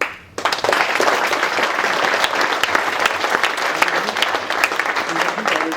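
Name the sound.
audience applause at a talk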